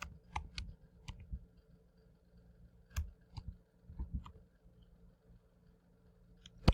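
Sparse key clicks from a computer keyboard as a student email address is typed in, a few quick bursts separated by pauses, close and fairly quiet.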